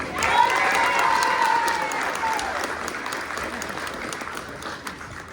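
Audience at a spring teacher preparation pinning ceremony applauds the teacher candidates, a full round of clapping that starts strong and gradually thins out, with some speech mixed in.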